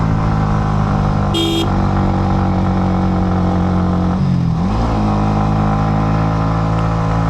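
Motorcycle climbing a rough, badly broken hill road in third gear near Ruma and Boga Lake in Bandarban: a loud, steady close engine drone holds throughout, with a brief high beep near the start.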